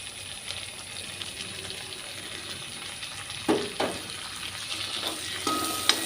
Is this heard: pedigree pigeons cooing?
no